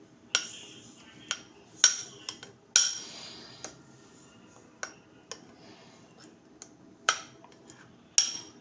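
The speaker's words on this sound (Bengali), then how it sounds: "তো এরকম করে চামচ করে মাখিয়ে নেবেন।" A spoon mixes badam (peanut) chutney with raw oil in a bowl, giving sparse, sharp metallic clinks and taps at irregular intervals over a quiet background.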